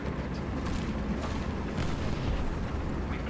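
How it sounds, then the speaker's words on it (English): An artillery barrage pounds down in War Thunder tank combat, a dense, continuous roar of heavy booms and blasts, loud and close for a few seconds with no voices over it. "He's getting artillery barrage."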